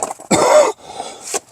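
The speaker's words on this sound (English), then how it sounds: "I'm going to cough a lot here." A man with a virus coughs while doing front brake work on a 2006 Chrysler Town and Country: one harsh, loud, close cough, then a softer throat-clearing hack a moment later.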